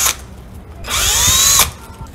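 A power drill whirs for about a second during a smart lever lock installation, a short loud burst with a rising pitch as it backs the bolt out of a door lock, framed by faint tool clicks before and after.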